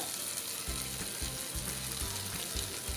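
Prawns cook for pickle in a covered pan, a low steady sizzle with a series of soft rhythmic thuds and scrapes as the lid comes off, fairly quiet with no speech.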